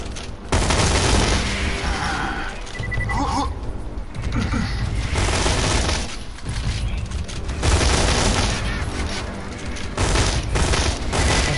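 Sustained, dense gunfire from the Veruc rifle in the video game Borderlands, a loud continuous barrage with mechanical clatter and booms filling the whole stretch, no speech audible.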